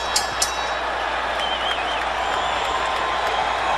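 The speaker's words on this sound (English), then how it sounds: "This crowd is excited now" An excited arena crowd roars and applauds steadily at the Vernon Forrest vs Ricardo Mayorga rematch boxing bout, with a couple of sharp sounds near the start and a thin whistle rising above the noise.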